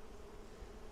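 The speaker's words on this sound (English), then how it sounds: "being careful of any bees slowly coming up" Honey bees at a Flow Hive during an inspection make a soft, steady buzzing hum, faint and continuous with no talking.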